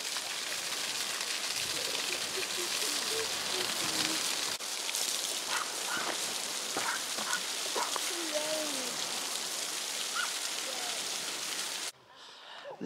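At Pentargon cliffs near Boscastle, a coastal waterfall makes a continuous hissing rush of falling water. The sound is steady and fairly loud, with faint talking and birdsong underneath, and it drops away sharply near the end.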